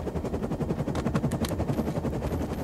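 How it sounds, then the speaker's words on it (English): A minigun machine gun in the video game Defiance 2050 fires a steady, rapid stream of rattling shots, loud and continuous throughout with no talk. "I got a minigun, machine gun for a reason"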